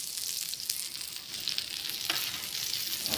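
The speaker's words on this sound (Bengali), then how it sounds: "বন্ধুরা বলো তো মাছ ফ্রাই কতক্ষণে হবে আজকে তো অনেক টাইম লেগে যাচ্ছে" Fish frying in hot oil in a pan, Pakistani style, giving a steady, even hiss of sizzling with occasional small pops and crackles, close and moderately quiet.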